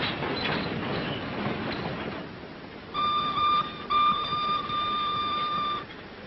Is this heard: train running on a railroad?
yes